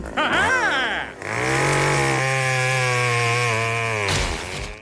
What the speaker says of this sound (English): We can skip to the brutal chainsaw bisecting instead